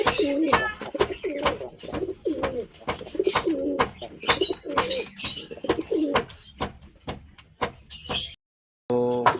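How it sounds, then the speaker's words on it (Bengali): Pigeons kept at a house coo in a close, rhythmic series of soft throaty calls, one after another, with a few door-like knocks and rustles near the end and a brief silent gap. "এখানে দুটো পায়রা আছে, নতুন পায়রাটা এখনো ঘরে আছে"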